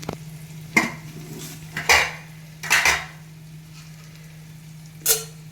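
A pan clanks while a tempering is readied for pepper rasam, with four or five distinct metallic knocks and scrapes spaced about a second apart. A steady low hum runs underneath, close up with no voices.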